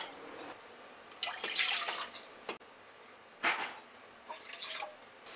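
Water splashes and trickles into a metal pot on a gas stove in a home kitchen, faint and uneven, with a few louder pouring bursts and drips.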